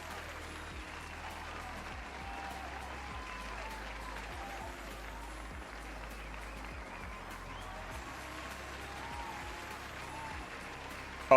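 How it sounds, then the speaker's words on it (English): A full round of applause: dense, even clapping from many hands holds steady at a moderate level for about eleven seconds, with no break in the rhythm. "Do we want to hear a round of applause?"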